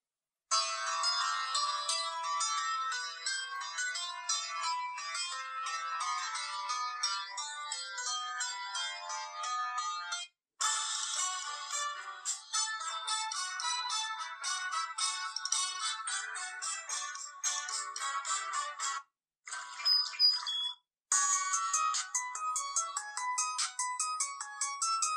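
A Leagoo M9 smartphone plays a melodic ringtone through its built-in speaker, a bright electronic tune repeating for about 25 seconds with a couple of brief gaps, fairly quiet and with no talking over it.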